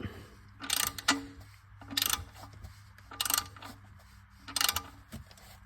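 Ratchet wrench tightening the oil drain plug with a crush washer on a 2022 Mitsubishi Outlander, giving four bursts of rapid clicking, each about half a second long and evenly spaced, close and fairly loud over a low steady hum.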